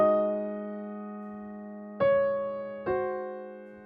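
Solo piano opens the pop ballad intro with a sustained chord, then two more struck chords about a second apart, each ringing out and decaying gently at moderate volume.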